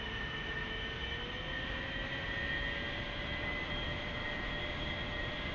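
An aircraft engine drones steadily while taxiing in the DCS flight simulator game, a constant low roar with a faint whining tone that rises slightly, heard alone at low volume.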